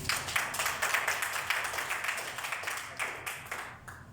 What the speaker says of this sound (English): let's kick off our meeting on a high note by giving everyone an enthusiastic round of applause.